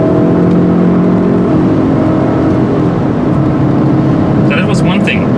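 A 2015 Fiat 500 Lounge car drives along with a steady engine drone and road noise heard from inside, the pitch dipping as it shifts gears, followed by a brief higher whine near the end.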